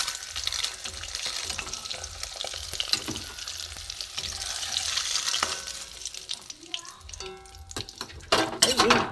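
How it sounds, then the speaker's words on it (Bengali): Duck eggs fry in a pan with a close, continuous crackling sizzle, broken by occasional spoon scrapes and clinks that grow busier toward the end. "এবারে ভাজা হয়ে গেছে চামচ দিয়ে আমি তুলে নেবো"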